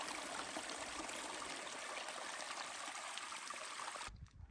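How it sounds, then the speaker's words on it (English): Snowmelt water running down a high-mountain trail and spilling into Tyndall Creek along the Pacific Crest Trail, a steady, close rushing trickle that cuts off abruptly at the end. "just more water in the trail, flowing off out into Tyndall Creek"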